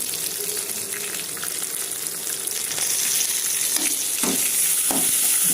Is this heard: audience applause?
no